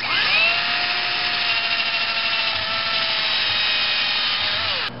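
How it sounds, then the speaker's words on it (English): A power drill whirs loud and close, drilling through a metal tube, spinning up at the start, holding a steady pitch for several seconds, then winding down. "go ahead and drill a hole through both of them"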